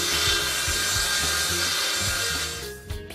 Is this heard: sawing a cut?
yes